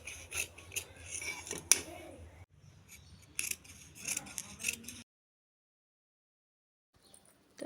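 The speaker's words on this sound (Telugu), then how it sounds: "లైనింగ్ని మెయిన్ ఫ్యాబ్రిక్ పైన పెట్టి కట్ చేసేసుకోవాలి" Scissors snipping through lining layered on main fabric while cutting pieces for a ruffled baby frock, close crisp cuts and rustling in bursts, then a stretch of silence before faint handling resumes.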